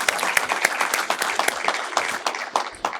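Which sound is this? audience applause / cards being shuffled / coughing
audience applause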